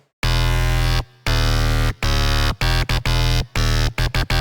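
A deep, buzzy synthesized bass plays a riff of sustained notes and short stabs with abrupt gaps, loud and up close, with no voices.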